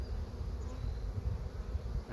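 Carniolan honeybees humming steadily at an outdoor hive, a dense low buzz that stays fairly quiet and continuous with no voices.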